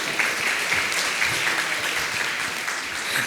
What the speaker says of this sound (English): A round of applause for the panel discussion.